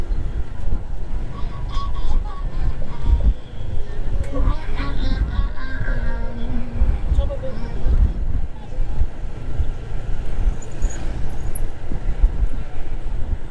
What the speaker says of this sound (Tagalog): Lakas ng hangin, presko,